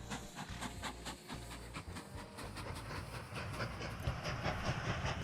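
A small locomotive rolls out along the track in the railway-building video game Mashinky, its steady rhythmic clatter and hiss running continuously at moderate level with no voices over it.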